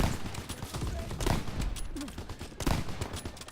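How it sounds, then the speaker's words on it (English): Gunfire in Call of Duty WWII, with rifle and other weapons firing close and loud in several bursts over a busy battlefield din. "The 3-line rifle, the sniper rifle. It was really fun to use."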